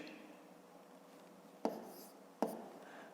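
Numbers written by hand on paper during a math exercise: quiet scratching of a pen or pencil with two sharp taps, close and faint.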